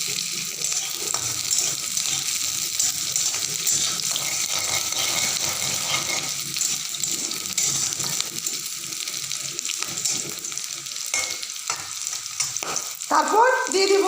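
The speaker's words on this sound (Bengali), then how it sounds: "তো এখন আমি দিয়ে দেবো এই যে কালো জিরে কাঁচা লঙ্কা।" Nigella seeds and green chili fry in hot oil with a dense, steady sizzle and crackle, close up, with stirring scrapes and a few louder spits near the end.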